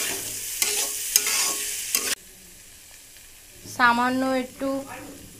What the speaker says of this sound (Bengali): একটু ঘি দিয়ে নেড়ে নেব